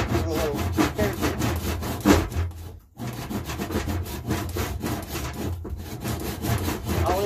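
Small hand saw cutting through mountain laurel wood for a gouge handle, a steady close rasping rhythm of quick back-and-forth strokes with one brief pause partway through.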